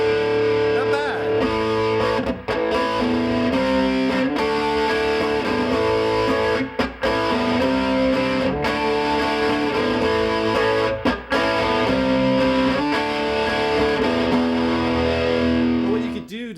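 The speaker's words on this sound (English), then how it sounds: "for this demo, I'm going to use this mid 90s Gibson Les Paul Standard Special Edition model" A mid-90s Gibson Les Paul Standard Special Edition electric guitar plays through a Randall RG80 solid-state amplifier, giving a loud, continuous, heavily distorted tone with sustained chords and a few brief breaks.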